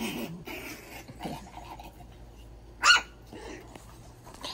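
Puppy barking outdoors in summer heat, a few scattered yips and one sharp louder bark near the end, close by, with no talking over it.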